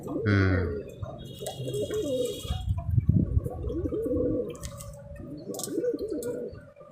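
Pigeons coo in a loft or yard, with soft low throaty calls repeating close by over a busy background of other bird sounds and faint human voices.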